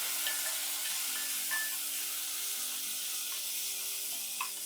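Small onions and a small tomato sauté in a pan for sambar, giving a faint, even sizzle with a few soft pops, heard alone and close.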